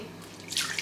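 Milk splashes and trickles into a blender jug, a short burst of pouring that builds then settles, close by with no talking.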